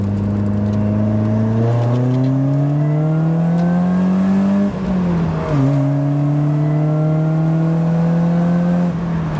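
Supercharged BMW engine revving loud and close, pitch climbing steadily in two long pulls with a brief drop between, a smooth rising whine layered over the engine drone.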